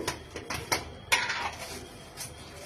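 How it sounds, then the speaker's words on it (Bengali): Whole spices such as cinnamon being washed in a cooking pot for a beef dish, a handful of close metallic clinks and scrapes with short pauses between them. "এগুলো একটু ধুয়ে দিতে হবে যে ধুয়ে দিচ্ছি"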